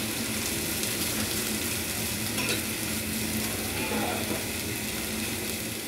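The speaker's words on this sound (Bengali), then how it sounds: "আদা রসুনটা দিয়ে দিব তেলটার মধ্যে, মরিচটাও দিয়ে দিব, পেঁয়াজটাও দিয়ে দিব। দিয়ে সবগুলো দিয়ে আমরা একটু সফট করে ভেজে নেব।" Ginger, garlic, chili and onion fry in hot oil with a continuous sizzle and clicking stir scrapes, close and steady throughout, with no voices.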